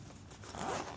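A zipper running along a compact sling bag, a steady rasping zip that rises toward the end, close and alone.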